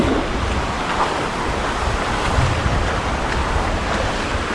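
Ocean waves wash onto a beach at low tide, making a continuous loud roar of surf mixed with wind buffeting the microphone, with no voices.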